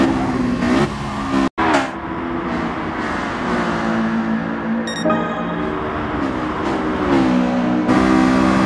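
Honda VTEC race car engine in Gran Turismo Sport on the Shuto Expressway, revving loud and steady throughout with rising and falling engine harmonics, a brief cut near the start and faint tire squeal.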